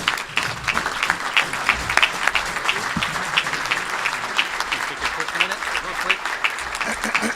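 Sustained applause from a Rotary Club of Tucson meeting crowd welcoming a new member, steady dense clapping filling the room for several seconds without speech.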